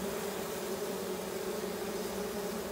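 Honeybees around a hive make a dense, continuous close buzz that holds steady with no talking over it.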